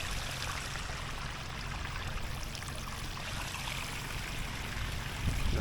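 Irrigation water rushes steadily through a channel in a mountain landscape, a continuous broadband wash with even loudness, heard alone with no voices.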